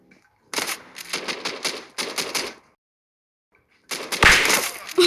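Automatic gunfire in the mobile shooter Standoff 2, fired into the sky, comes in two rapid bursts of shots, then a pause, then a louder, harsher volley near the end.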